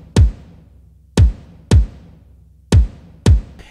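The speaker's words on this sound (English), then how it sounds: "so I just went ahead and layered in a nice little kind of standard sine wave kick." A layered standard sine wave kick drum for a modern Christmas song mix, heard solo as five deep booming thumps at an uneven pace, each with a sharp click and short low decay, loud and close.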